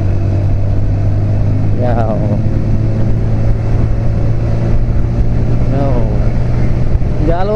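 A motorcycle engine drones steadily and loudly during a speed test on the Pantura coastal highway, with brief rising whines; someone speaks over it.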